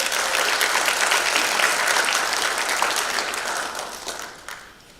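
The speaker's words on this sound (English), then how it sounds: "Let's give all of those members a round of applause." A graduation audience gives a round of applause, a loud, dense burst of many hands clapping that holds steady for several seconds and then gradually fades away.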